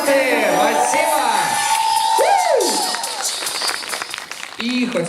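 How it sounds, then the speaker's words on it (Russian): Crowd at a freestyle battle championship cheering and whooping loudly, with shouts and clapping swelling up close and a voice calling out over the noise. "И аплодисменты."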